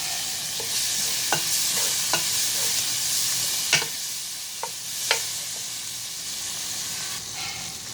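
Steady close sizzle of a frying pan with shrimp paste stirred in for ginataang kangkong with shrimp, crackling hiss throughout and a few sharp spatula clinks on the pan.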